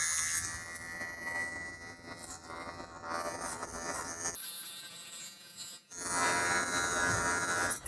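Electric hair clipper buzzing steadily as it cuts a child's hair at a barber's, a close, continuous motor hum with brief dips and a pause near the middle, with no talking over it.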